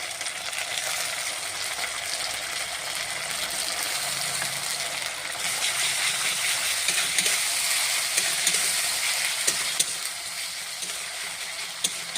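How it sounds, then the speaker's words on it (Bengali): Ginger-garlic paste hits hot oil in a frying pan, giving a steady, loud, close sizzle that lasts throughout with faint stirring and no voices. "দেখো, এই দিলাম আদা রসুনের পেস্ট গেল।"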